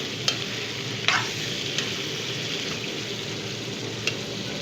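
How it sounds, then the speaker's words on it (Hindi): Chicken fries in a karahi with a steady, fairly quiet sizzling hiss, punctuated by a few sharp clinks of stirring at irregular moments, and no voices. "चिकन को गोल्डन होने तक पकाना है।"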